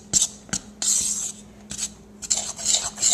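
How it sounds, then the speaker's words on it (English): Mixing a powdery wax-craft blend of baby powder and baking soda in a container, close-up rasping and rubbing strokes in short uneven bursts with small clicks of the utensil against the sides. "what I like to do is just stir this all up"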